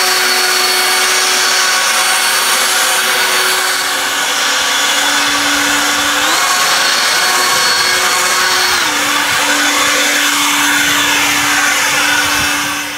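EGO 56V battery leaf blower running on turbo mode, a loud steady whirring roar with a sustained motor tone that steps up in pitch partway through as power increases, no speech.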